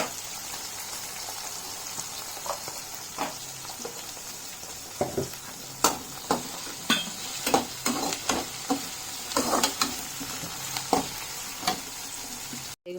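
Onion, green chili, tomato and curry leaves frying in oil with a little salt, a soft continuous sizzle punctuated by a rapid series of sharp spatters and stirring knocks that grow busier midway.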